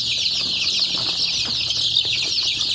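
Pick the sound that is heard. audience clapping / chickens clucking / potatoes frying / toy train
chickens clucking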